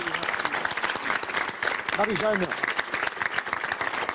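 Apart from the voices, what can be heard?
applause for the game show contestants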